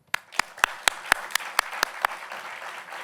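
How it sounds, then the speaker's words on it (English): An audience claps to welcome a professor speaking on privacy-enhancing technologies, a few distinct hand claps in a steady rhythm at first that thin into a soft continuing patter. "please join me in giving a warm round of applause"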